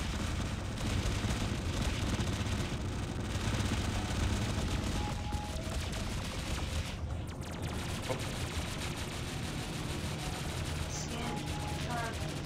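Sustained weapon fire in the space game Discovery Freelancer during an ambush event, a dense continuous barrage of shots and blasts with voices talking over it.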